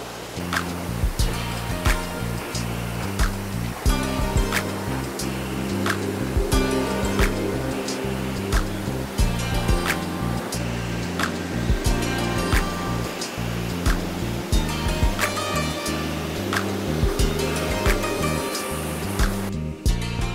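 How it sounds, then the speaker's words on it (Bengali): Waterfall in a tea garden in the Cameron Highlands, a loud, steady rushing roar of falling water close by, continuous throughout with frequent sharp splashing bursts. "চা বাগানের মধ্যে ঝর্ণা।"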